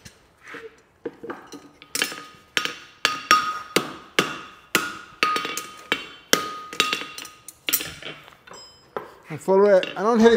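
Hammer blows ring out on a hot 3/4-inch steel bar being fullered and shaped at the anvil, a steady run of sharp, moderate metallic strikes with brief ringing between, ending with a short burst of speech.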